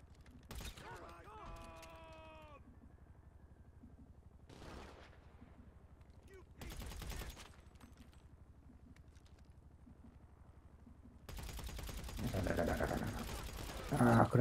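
Scattered bursts of gunfire in GTA 5, arriving in short separate volleys with quiet gaps between, then a longer sustained barrage at the end, alongside mechanical clicks and occasional speech.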